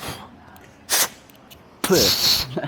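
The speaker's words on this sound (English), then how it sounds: "spraying down the gel to help with the install of the PPF" Installation gel sprayed from a bottle onto a Corvette during paint protection film work: a short hissing spray, then a longer one about a second later, both close and fairly loud.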